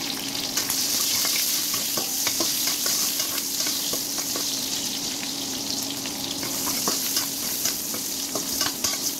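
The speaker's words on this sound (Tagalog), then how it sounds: "kailangan natin haluin hanggang sa bumango ang ating bawang at sibuyas" Garlic and onion sizzling with meat in a hot pan, a loud continuous close frying hiss with frequent spatula scrapes and taps as the mixture is stirred.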